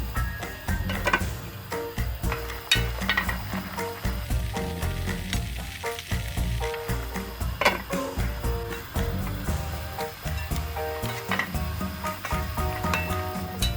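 A pot of baby potatoes bubbles and sizzles steadily in thick Korean braising sauce, with occasional stirring clatter and a busy tonal background throughout.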